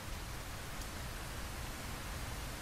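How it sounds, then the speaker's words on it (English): Steady rain falls in a Minecraft-style survival game, a dense even hiss that stays constant and fairly loud throughout with no talking over it. "Uh-oh, here comes the rain."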